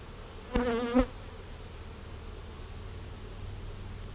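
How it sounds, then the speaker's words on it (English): A brief swell of honeybee buzzing rises for about half a second at an open hive frame, then fades into a faint, steady hum of insects. "a free for all of bees here."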